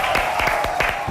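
Studio audience applauding after a sponsor plug for Huggies on a Spanish-language talk show, a steady wash of clapping with sharp individual claps standing out, fairly close and continuous for the whole moment.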